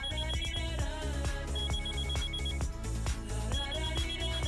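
Telephone ringing while a call is being placed, a repeated electronic ring tone sounding over background music, moderately loud and continuous.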